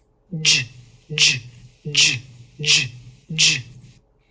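A voice imitates a jump rope with five evenly spaced breathy "ch"-like bursts, each with a short voiced onset, steady and fairly quick, close and clear with no other sound.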